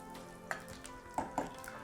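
Whole green cardamom pods, cloves, cumin seeds and bay leaves fry in hot oil for a restaurant-style methi chicken, giving a steady low sizzle punctuated by a few sharp pops and crackles.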